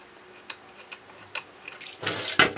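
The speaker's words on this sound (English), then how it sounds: "Dipstick sump's completely filled with water. This is the sump drain. Let's drain it." Water drains from the sump of a Bernard W110 motor, starting as a few faint drips and then building into a louder, steady gush as it pours out.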